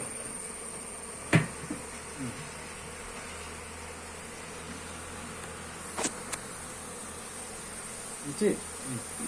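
Bees swarm around a beekeeping hive in a continuous close buzz, broken by a few brief knocks or bumps and without voices.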